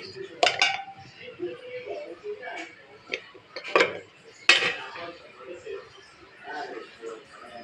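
Pots and utensils clink and clatter in a kitchen while dal and fish cook, giving a few sharp metallic knocks and lighter taps, with voices talking in the background.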